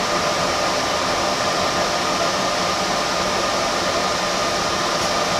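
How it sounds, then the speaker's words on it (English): Wire feed motor of an Everlast Power MTS 221sti multi-process welder, cranked to full speed, pushing wire through the gun line: a steady, unbroken whirring hum that stays close and even throughout, with no talking. "the next thing we need to do is just feed the wire all the way through the line"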